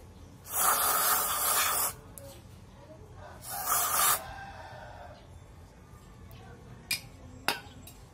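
Two loud hissing bursts of aerosol cleaner sprayed onto a motorcycle starter motor, the first lasting over a second and the second shorter, followed by a couple of faint clicks in a quiet workshop.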